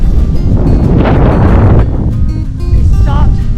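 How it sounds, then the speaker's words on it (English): Strong, gusty wind buffets the microphone during a stop on a dusty motorcycle trip through southern Utah, a loud continuous roar that swells and eases, with brief voices faintly underneath. "Yeah, it's breezy. A little bit breezy."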